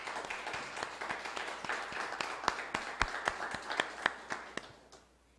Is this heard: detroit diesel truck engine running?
no